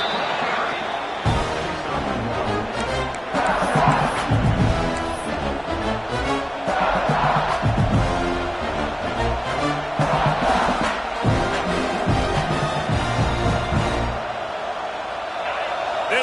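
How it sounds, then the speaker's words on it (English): Stadium crowd at a college football game roars loudly and continuously, a dense wall of cheering and shouting that swells and dips throughout, with a commentator talking over it. "This crowd trying to make life miserable for this offense."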